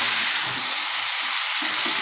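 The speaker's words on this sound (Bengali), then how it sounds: "এই যে ভালো করে নাড়াচাড়া দিয়ে নিই।" Jackfruit being stirred in sizzling fried spice masala in a pan, a continuous close frying hiss with soft scraping stir movements underneath.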